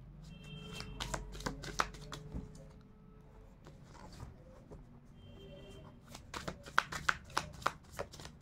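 A deck of tarot cards being shuffled at close range, with repeated crisp riffles and soft flicks of card edges, briefly pausing before a quicker run of sharp card snaps.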